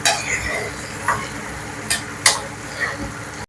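Ginger and garlic fry in oil for a gooseberry pickle, giving a steady close sizzle with a few scraping stirs and a sharp clack of a spoon against the pan.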